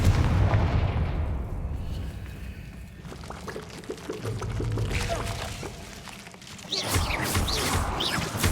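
Confringo spell explosions in the video game Hogwarts Legacy: loud, rumbling blasts and crackling bursts follow one another over a steady roar, with a fresh burst of crackle near the end.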